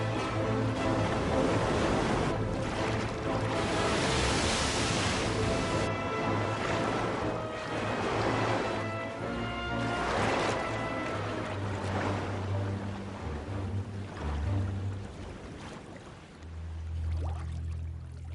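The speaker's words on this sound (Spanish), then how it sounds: "Agitada por el viento y las olas, la carabela española se rompe en pedazos." Wind and heavy waves batter a Spanish caravel at sea, a loud, continuous roar of surging water and gusts with repeated swells crashing in and fading over the whole stretch, no voices present.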